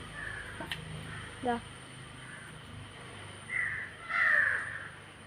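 Crows caw in short harsh bursts around a spot where cats and crows squabble over a chicken, a few calls spaced apart and moderately near, with a louder pair of caws toward the end over low background noise.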